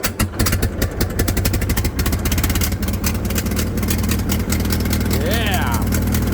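A small tractor engine turns over and runs with a loud, close, uneven chugging idle that rumbles on steadily, with a few brief scrapes over it.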